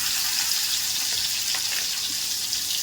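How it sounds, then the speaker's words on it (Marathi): Green chili and garlic fry in hot oil, giving a steady, close, even sizzle that holds without a break and with no voices. "छान असं तेलात फ्राय करा लसूण आणि मिरचीला"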